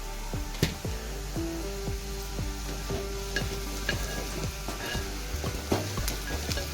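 Bharang leaf vegetable being sautéed with homemade masala in a pan, a steady close sizzle with frequent scraping stirs and small clinks of a spatula throughout.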